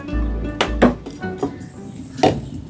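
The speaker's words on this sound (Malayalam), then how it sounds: "നമ്മുടെ പാത്രം അടുപ്പത്ത് വയ്ക്കുന്നു കേട്ടോ." A metal cooking pot is set down onto a home stove while potato curry is prepared, giving a few sharp clanks and clinks of metal on metal close by, with no talking.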